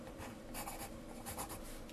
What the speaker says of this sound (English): So here's the HB pencil from our set.